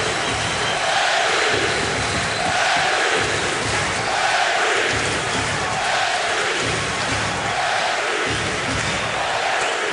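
A big hockey crowd at Madison Square Garden roars loudly and continuously, the cheering swelling and easing in waves across the arena with no pause.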